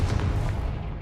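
Confringo fire spell blast in Hogwarts Legacy, a dense rumbling explosive burst with booming low end filling the whole short moment, loud and continuous without pause.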